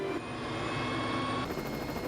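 A helicopter flies over Kilauea volcano, a steady, loud drone with a faint rhythmic rotor pulse that shifts slightly toward the end; no talking.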